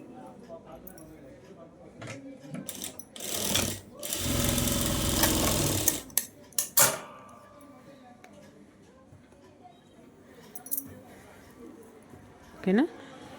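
Sewing machine stitching a princess-cut blouse, a short burst of fast stitching with a few brief taps around it, close, while someone talks.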